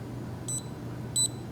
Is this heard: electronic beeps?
yes